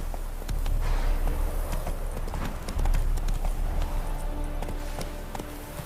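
Roach, a horse in The Witcher video game, gallops with rapid, rhythmic hoofbeats that sound close and loud and carry on steadily from start to finish.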